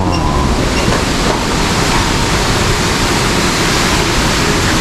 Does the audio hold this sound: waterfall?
yes